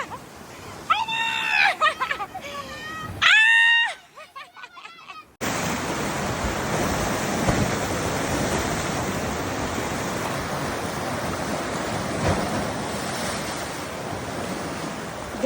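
Ocean waves crash and surge in a long continuous wash of surf on a coastal hike, loud and close, after a few excited voices call out over the water.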